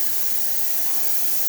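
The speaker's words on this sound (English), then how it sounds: "Steam for this machine, you can see, really powerful, working amazingly, working great." Loud, steady hiss of the steam wand on a 1989 Olympia espresso machine, a continuous close blast of high-pitched steam with no pauses.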